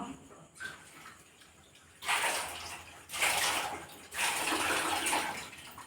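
Onions rinsed under running water in a home kitchen before being ground into chutney: three separate bursts of splashing, gushing water, each lasting about a second or more, fairly close, with no talking.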